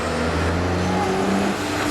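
Trucks at a drag race roar loud and close in a steady, sustained engine drone with rising tones, and there is no talking.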